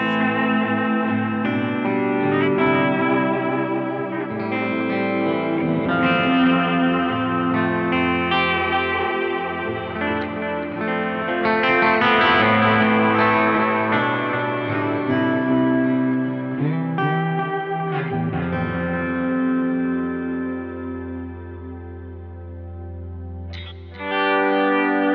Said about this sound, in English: Add a little bit of reverb, add a little bit of delay, and you get these wonderful wall of sound ambient tones